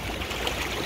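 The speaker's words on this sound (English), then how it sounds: "we're having a walk in the flood water just because it's fun and freezing cold" Cold flood water swirling and trickling with a current around someone wading through it, a steady close wash of water with small splashy bursts.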